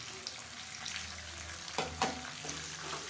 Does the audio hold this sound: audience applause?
no